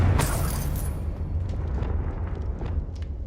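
A Confringo spell blast in Hogwarts Legacy, one loud close explosion with a sharp burst that fades into a rumbling, crackling tail, with no talk over it.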